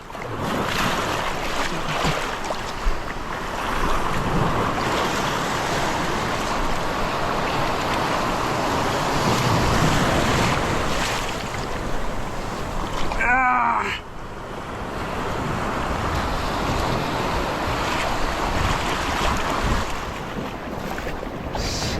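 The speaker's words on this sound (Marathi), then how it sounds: "एक लाट आहे मित्रांनो एक लाट आहे मजबूत आहे" Ocean surf washes and breaks around a thermocol raft at sea, a loud continuous roar with wind buffeting the microphone and one brief sharp splash or crash partway through.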